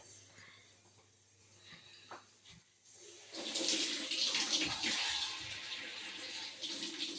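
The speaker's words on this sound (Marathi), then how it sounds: "अंडी स्वच्छ धुवून घेतली आणि त्याच्यामध्ये पाणी घातलेलं आहे" Running water splashes and gurgles as eggs are washed before boiling, faint tapping and handling at first, then a louder steady rush of water filling the container.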